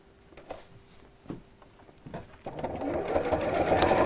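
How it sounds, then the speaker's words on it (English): After a few handling clicks and taps, a sewing machine starts up and runs steadily, stitching a zip sandwiched between two fabric pieces, the whirring motor loud and close. "sandwiching the zip in between the two pieces, sewing from the side that I've just sewn. So line up the edges here, line up the edges here, and we'll sew"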